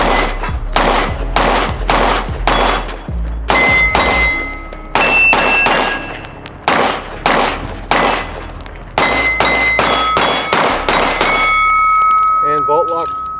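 A Springfield Prodigy 1911 pistol fires steadily at a steel dueling tree about 10 yards away, each shot followed by a bright metallic clang and ringing ping, in a long rhythmic string with a voice talking near the end.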